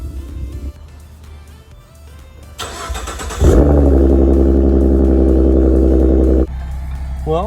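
A Roush Mustang's engine cranks briefly, catches and fires into a loud, steady idle, then settles lower, recorded close by with some handling noise before the start.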